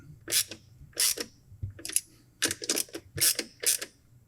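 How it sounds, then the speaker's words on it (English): A 10mm socket wrench ratchets in repeated quick clicking bursts, about seven of them, while tightening small 6mm screws on a 22RE intake manifold adapter, close and fairly quiet with no talking. "with the 10mm socket, we're going to secure these nice and tight"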